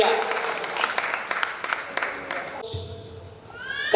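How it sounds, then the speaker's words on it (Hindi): An audience at a Hindi comedic poetry show breaks into applause, a burst of many hands clapping that swells, then cuts off and gives way to a voice speaking. "एक बार जोरदार विनोद पांडे जी के लिए तालियां बजाइएगा भैया।"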